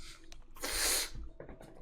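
A single sharp, breathy sneeze bursts out at close range after a short intake of breath, followed by quieter sniffly breathing.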